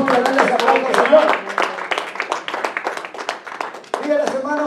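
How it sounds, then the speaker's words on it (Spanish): A church congregation claps at a Spanish-language service, a burst of scattered, fairly close hand claps mixed with voices and a shout, the clapping thinning before speech returns. "dale ese aplauso al Señor"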